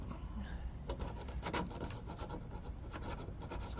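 Scraping and rubbing while a metal ground contact is cleaned on a 1969-1972 Chevy C10 during heater blower replacement, a steady close rasping texture with brief sharper strokes.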